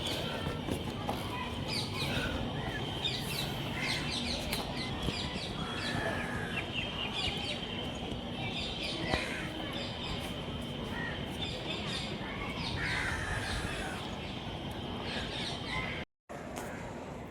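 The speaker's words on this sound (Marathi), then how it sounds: "किती सुंदर पक्ष्यांचे आवाज आहेत" Birds call and chirp steadily through a forest on Malabar Hill in Mumbai, a crow-like caw among them, set against a constant outdoor hum of moderate, distant sound.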